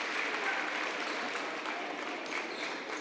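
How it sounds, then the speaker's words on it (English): Steady applause from a high school basketball crowd at a Class 3A sectional championship game, a broad, even wash of clapping that holds at a fairly loud level throughout with no clear voices over it. "It's a nice hand from the crowd."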